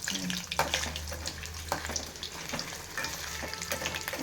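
Food frying in hot oil left over from frying onions while cooking a paneer dum biryani, with steady close sizzling and occasional stirring scrapes throughout and no talk.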